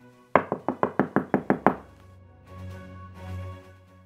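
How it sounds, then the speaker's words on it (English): Eight quick, sharp knocks on a door in a children's Little Red Riding Hood telling, evenly spaced and close, followed by a low sustained tone. "Soon, Little Red Riding Hood knocked on the door."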